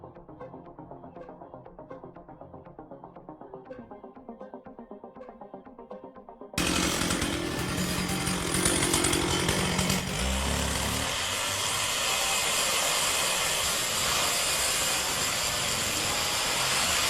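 Chainsaw felling an old-growth tree in a forest, a quiet idling putter that suddenly breaks into a loud, harsh, sustained full-throttle roar as the cut proceeds.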